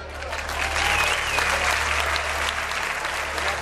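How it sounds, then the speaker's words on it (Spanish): Audience applause at a clown show, a dense wash of many hands clapping that swells quickly and holds steady and loud, with a faint voice beneath. "regálanos un aplauso."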